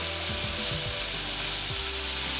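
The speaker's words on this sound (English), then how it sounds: "I will stir it on high heat" Beef tenderloin for a beef chilli stir-fries in a pan over high heat, giving a loud, steady sizzle up close with a few quick scraping strokes of stirring.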